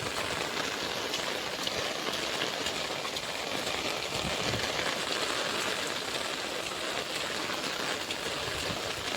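Heavy rain pours down steadily in a dense, even hiss of drops striking surfaces and running water, constant and fairly loud with no voices.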